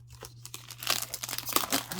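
Plastic wrapping being peeled off an Egyptian tarot deck box, a short close crinkling and tearing that grows louder, set over a low steady hum.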